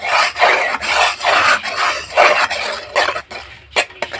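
Melting date-palm jaggery is worked in a pan with a spoon over low heat, giving repeated raspy scraping strokes in an uneven rhythm, close and fairly loud, with no talking.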